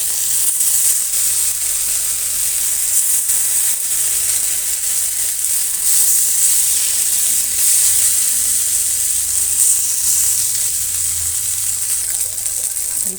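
Pieces of rohu fish fry in plenty of hot oil, giving a loud, dense, continuous sizzle close by that stays even throughout, with no one speaking.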